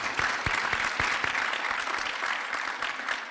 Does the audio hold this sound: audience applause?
yes